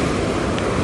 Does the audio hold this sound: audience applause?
no